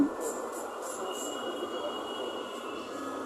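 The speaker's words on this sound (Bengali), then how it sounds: "মেট্রো রেলে যাচ্ছি ঢাকাতে" Steady rumble and hiss of a Dhaka metro rail train in motion, heard from inside the carriage at moderate level with a thin whine running throughout.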